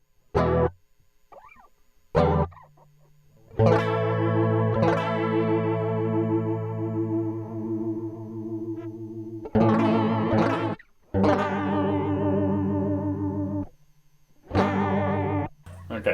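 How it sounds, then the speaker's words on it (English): Electric guitar chords run through a chorus pedal set to full width and full speed, ringing out with a thick, fast warble in several sustained bursts separated by short silences. "usually with chorus pedals you get that kind of a weird warbly sound."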